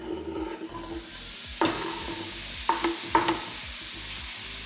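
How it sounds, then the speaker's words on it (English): Mushrooms and Chinese sausage sizzle in a pan for Cantonese sticky rice. A continuous close frying crackle is broken by a few sharper pops and clatters of stirring. "Mushrooms and sausage in the pan."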